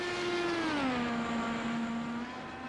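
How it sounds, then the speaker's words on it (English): An IndyCar race car in a racing video game sits with its engine stuck at full throttle after a hardware failure, a loud, sustained whine that dips slightly in pitch and then holds steady. "you can hear the car is still stuck at full throttle"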